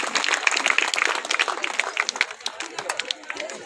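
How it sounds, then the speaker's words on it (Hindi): An audience at an inauguration ceremony in Bundi breaks into brisk applause, many hands clapping close together at first and then thinning and fading over a few seconds. "तालियां बजती रहनी चाहिए।"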